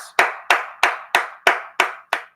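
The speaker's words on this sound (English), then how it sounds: "Give yourself an applause." Seven slow, evenly spaced claps ring out one at a time, each a sharp close hand clap with a short decaying tail and silence between.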